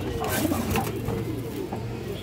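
Pairs of pigeons, including green-necked birds, coo at a pigeon sale, short low calls repeating close by as someone talks over them.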